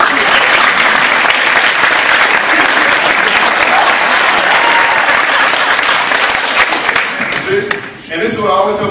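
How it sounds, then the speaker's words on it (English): Audience applause fills a performance hall, dense and loud for several seconds before thinning out as a voice begins speaking near the end. "Another applause."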